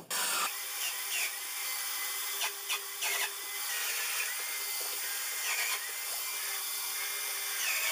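A power tool drives screws into the wooden parts of a home bar. A continuous high-pitched whir runs close and loud throughout, with brief pitch changes as the load shifts.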